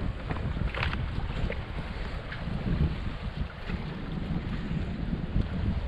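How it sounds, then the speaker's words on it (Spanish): Wind blows at sea, buffeting the microphone as a steady, rough roar on the water, with faint gusts and surf-like wash and no voices. "Y ahora se está metiendo bastante viento"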